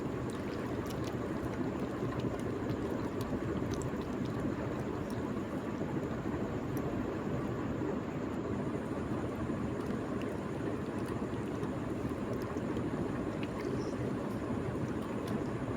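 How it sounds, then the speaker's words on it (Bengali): Mushrooms are washed in a pot, the water changed several times, producing a steady, loud, close rush of splashing water that runs without pause the whole time. "এভাবে 2-3 বার জল পাল্টে পাল্টে ধুয়ে নিচ্ছি পোল ছাতাগুলোকে"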